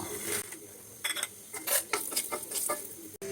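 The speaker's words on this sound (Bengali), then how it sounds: "এখন এই তেলে এই বড়িগুলো ভেজে নিব।" Lentil dumplings (bori) frying in oil left over from fried fish produce a continuous sizzle, with intermittent clinks and scrapes of a spatula against the pan.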